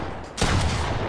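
Fortnite gunfire: a sudden loud burst from a shotgun-like weapon strikes after a brief quieter lead-in, then ringing game noise sustains to the end, with no talk.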